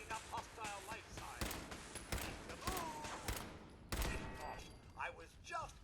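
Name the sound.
turret gunfire in Fallout 4 video game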